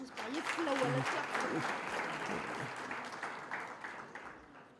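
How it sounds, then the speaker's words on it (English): Applause fills an education summit hall for the departing Madam Director, fairly soft, with voices briefly audible near the start as the clapping swells and then slowly tapers. "Can we give you another round of applause"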